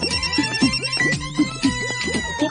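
A cartoon phone's electronic ringtone repeats in a quick, rhythmic melodic pattern of bright tones, loud and alone with no voices.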